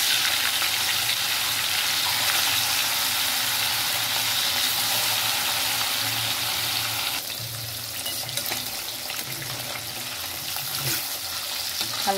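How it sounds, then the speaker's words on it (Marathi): Surmai fish frying in hot oil, a dense, continuous sizzle heard up close that eases slightly partway through and keeps crackling steadily. "आता मी एक मच्छी फ्राय करणार."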